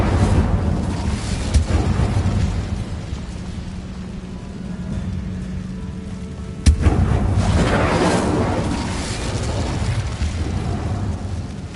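The Incendio fire spell being cast in Hogwarts Legacy, a burst of roaring flame with a sharp crack midway, then a sustained rushing blaze, no voices.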